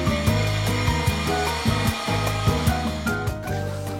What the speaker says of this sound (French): je pense qu'il a bientôt fini de scier sa dalle.